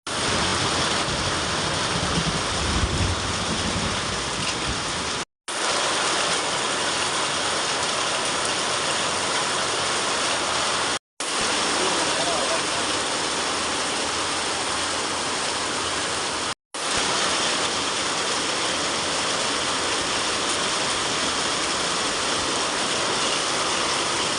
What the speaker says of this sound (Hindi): इतनी ज़बरदस्त बारिश आ गई है